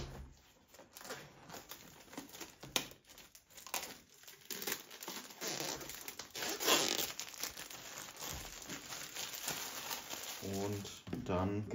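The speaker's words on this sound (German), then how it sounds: "so geht wenigstens die Folie ab" Plastic film peeled and crinkled off a DJI Mini 2 SE drone box: close, crackling rustles and tearing scrapes come in quick irregular bursts, with someone talking quietly at times.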